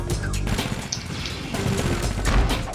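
Weapon fire in the Ratchet and Clank video game pops and booms in a dense run of rapid shots over game sound effects.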